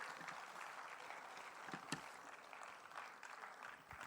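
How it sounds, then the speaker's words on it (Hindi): Audience applause welcoming a moderator onto a stage at a literary festival panel in Surat, a steady faint wash of clapping from a crowd heard at a distance. "तालियों के साथ स्वागत करें।"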